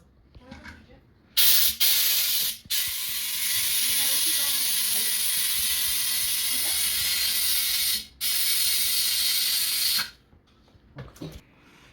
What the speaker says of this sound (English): Now it's time to add quick air inside this